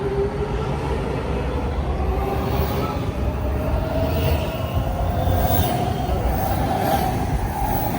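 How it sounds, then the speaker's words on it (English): Long DC Metro train rolling steadily past on the underground platform, a continuous loud rumble and hum with faint wheel whine, no clear voices. "This train is very long."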